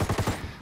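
A short burst from the Unidad light machine gun in Ghost Recon Wildlands: four rapid, punchy rounds in quick rhythm, loud and close, then a brief fading tail.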